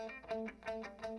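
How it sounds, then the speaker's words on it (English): Distorted electric guitar from a track, drenched in wah and heavily compressed in a remix, with a repeating riff pulsing in roughly four loud phrases. "More distortion on the guitars. And there's wah. Like there's a wah on the whole track."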